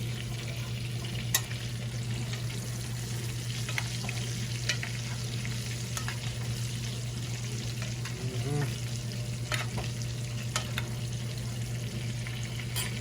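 Steak frying in a hot pan gives a steady, even sizzle with faint crackles and a constant low hum running beneath it, with no voices.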